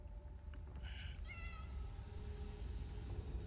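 A house cat meows a few times, short rising and wavering calls over a low steady background hum, fairly close, with no talking.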